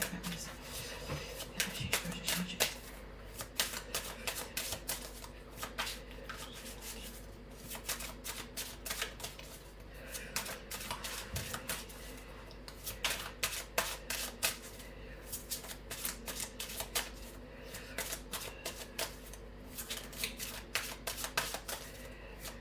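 Tarot cards being shuffled, giving a steady run of quiet, close riffling bursts and soft card slaps with short pauses between them. No one speaks.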